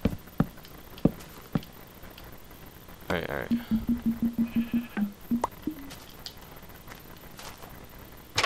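Sheep bleat in Minecraft, a quick string of about a dozen short rhythmic bleats, with scattered clicks and a few words of talk nearby.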